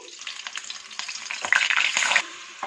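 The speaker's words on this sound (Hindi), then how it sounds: "इन्हें 2 मिनट तक अच्छी तरह से भून लेंगे। साथ साथ इसमें चम्मच चलाते जाएंगे।" Mutton trotters fried with onion paste in a pan, sizzling as a spoon stirs them, with scraping that swells louder midway through a short burst. Close, with no voices.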